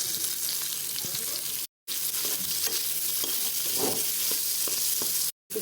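Chopped onions crackle and sizzle steadily in hot oil alongside shrimp, with a broad continuous hiss and occasional stirring scrapes, cut by two brief silent gaps.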